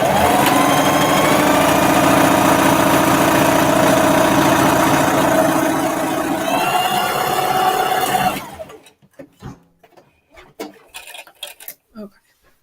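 A sewing machine stitching the top of a folded fabric drape runs loud and steady with a whirring motor hum for about eight seconds, then stops, leaving scattered light rustles and handling clicks.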